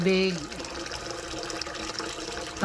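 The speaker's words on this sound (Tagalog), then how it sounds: "Lagyan natin tubig." Tap water runs steadily into a pressure cooker, a soft continuous splashing gush under a woman's speech at the start and end.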